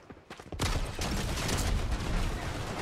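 Turret gunfire in Fortnite, a dense continuous rattle of rapid shots that starts abruptly and keeps going without a break, loud and close.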